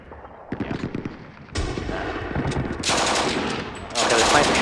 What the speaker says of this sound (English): the sniper shot is the first one